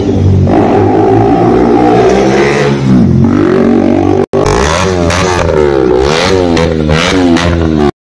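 A KTM Duke 250 motorcycle fitted with an Akrapovic exhaust and dB killer revs hard nearby, its loud roar rising and falling through repeated throttle blips with a brief cut midway.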